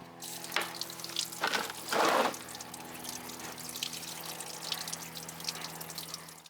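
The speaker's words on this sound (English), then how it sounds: "Once you break it loose, coolant will start draining." Coolant draining from the radiator drain plug of a 2001 Jaguar XJR during a water pump replacement, a faint steady trickle and splash with a couple of louder gushing bursts near the start.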